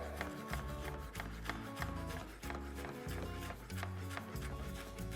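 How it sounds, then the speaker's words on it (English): A knife chops basil rapidly on a cutting board, a string of quick, close, rhythmic thuds with brief pauses between bursts. "So we're going to take, again, the same amount of basil. Give it a quick little chop."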